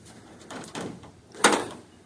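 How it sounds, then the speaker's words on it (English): A 1947 Plymouth P15 car door is handled with a couple of soft rattles and clunks, then shuts with one loud, solid, close thud. "Wow, door shut's good."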